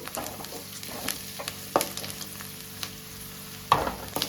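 Onions frying in a pan with chillies, a close crackling sizzle punctuated by several scraping stir strokes, two of them sharp and loud, no speech.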